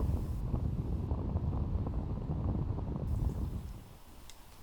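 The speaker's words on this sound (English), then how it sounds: "The wind, yeah." Wind gusting across an open disc golf course in Utah, a steady low rumbling roar that buffets the microphone almost throughout, easing slightly near the end.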